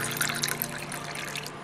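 About one and a half tumblers of water are poured into a bowl to make a black cumin seed drink. The liquid splashes and trickles steadily and close by, with no voices.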